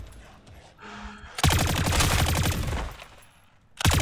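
Rapid bursts of automatic gunfire from a TAQ Evolvere rifle in Call of Duty Modern Warfare 3 zombies mode: a short pause, then a loud sustained volley lasting over a second, then a fresh burst at the end.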